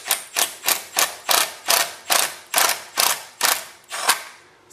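A Tapcon screw is hand-tightened into a cinder block with a ratcheting tool, about a dozen evenly spaced rasping clicks in a steady rhythm, close and alone.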